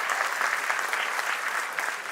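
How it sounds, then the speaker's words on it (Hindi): Audience applause at a centenary celebration of a Maharashtra chamber of commerce, a dense steady roar of many hands clapping continuously at a loud, even level throughout. "जोरदार तालियों के साथ अभिनंदन करें।"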